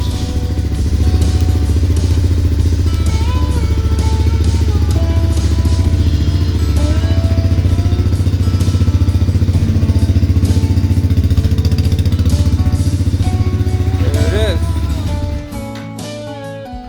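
A Honda Fourtrax ATV engine runs close and loud with a steady, unbroken drone, then drops away sharply near the end.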